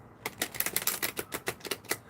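A tarot deck shuffled and cut, giving a steady run of crisp, rapid card slaps and riffles close to the ear, with no talking over it.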